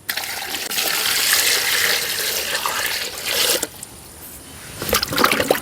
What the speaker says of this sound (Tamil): இனி நல்ல வடிவாக கழுவி எடுப்போம்.